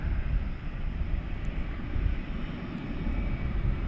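A Cathay Pacific Airbus A350-1000 airliner at DFW airport gives a steady, broad jet engine roar, constant and moderately loud throughout, with no talk.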